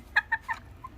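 A bantam-sized chicken clucking nearby, three short sharp clucks in quick succession, then a faint fourth, with no talk over them.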